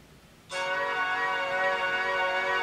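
Music plays from the mono speaker of an ASUS Padfone Infinity phone, starting abruptly after a moment of quiet and then holding a bright, sustained, bell-like chord at a steady volume.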